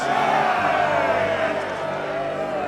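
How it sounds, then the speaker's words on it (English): Crowd cheering from a medieval gathering in Kingdom Come: Deliverance 2, a loud, dense wall of many voices whooping and shouting together, sustained throughout without a break. "Yeah, happy cheering."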